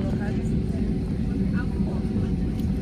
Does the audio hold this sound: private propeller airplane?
yes